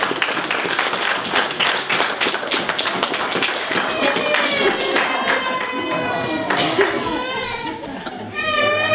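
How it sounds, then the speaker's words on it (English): A church congregation claps for the mothers at a service, a brisk burst of applause with children's voices and a crying baby rising through it, while people talk, cheer and call out on top. "We're going to give our mothers some applause for all that they are."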